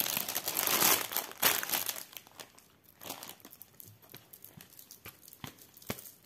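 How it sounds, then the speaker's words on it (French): Crinkly plastic packaging from a cross-stitch kit is unwrapped close by, with loud crumpling and rustling that settles into scattered crackles and taps toward the end. "Hop, je déballe quand même."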